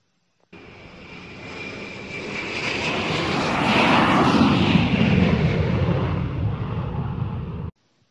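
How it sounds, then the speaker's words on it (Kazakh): An airplane engine drones overhead, a broad roar that gradually builds louder as it passes close, then holds steady until it cuts off. "Ұшақ қалай ұшады?"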